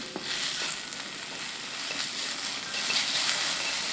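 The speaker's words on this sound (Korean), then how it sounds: "자, 이제 먼저 좀 볶아볼게요." Food stir-fries with only a little oil in a thick coated frying pan, a steady close sizzle with faint scraping and stirring touches throughout, and no voices over it.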